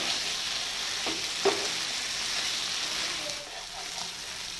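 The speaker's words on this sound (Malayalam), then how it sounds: "നന്നായിട്ട് ഫ്രൈ ആയിക്കൊണ്ടിരിക്കുകയാണ്" Kerala-style liver fry sizzling in a pan, a steady, fairly soft crackle with a couple of small pops, continuing evenly throughout.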